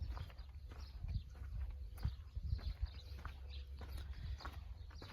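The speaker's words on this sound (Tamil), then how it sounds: "குதிரை" Horse hooves clip-clopping on the ground at a private zoo in the Saudi desert near Mecca, a steady uneven patter of footfalls at moderate distance over continuous low outdoor rumble.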